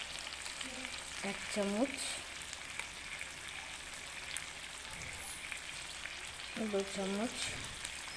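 Spice masala for restaurant-style Lahori chicken sizzles steadily in hot oil as yogurt is added, a constant close frying hiss running beneath a voice speaking at intervals.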